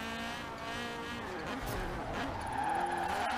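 Honda Prelude drifting in the racing game Forza Horizon 4, tires squealing in long wavering tones over steady engine drone, loud and continuous.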